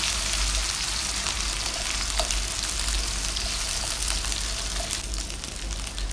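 Chopped onion with ginger-garlic paste, cinnamon and bay leaf fries in a pan, giving a steady, loud hissing sizzle throughout with faint scattered ticks of stirring.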